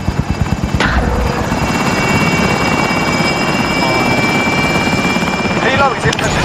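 A helicopter in the Call of Duty Warzone video game whirs steadily with a loud, continuous rotor drone and rapid low chopping throughout, while a voice talks over it.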